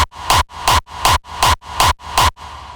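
High punch layer of a gated kick drum sample: seven evenly spaced, bright and crisp electronic hits about 0.4 seconds apart, each cut off abruptly, with a faint tail after the last.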